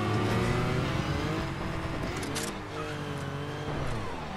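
Several cars race through a Fortnite match, their engines roaring and revving loud and close, with pitch rising and falling as they speed past.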